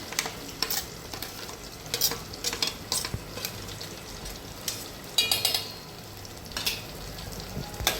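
Onion-coconut paste sautés with softened tomato in oil for a fresh cashew curry, a low sizzle broken by intermittent spoon scrapes and clinks against the pan, fairly quiet and close, without speech.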